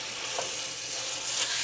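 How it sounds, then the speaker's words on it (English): Ground beef frying in a pan, a steady close hiss and sizzle running continuously and alone at an even loudness. "we're gonna cook the ground beef"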